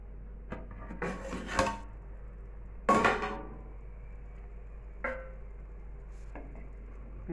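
A utensil stirs chicken dum biryani in a heavy pot, giving a few separate scraping clanks and knocks spread out with gaps between them. The sounds are close and moderately loud, and no one speaks.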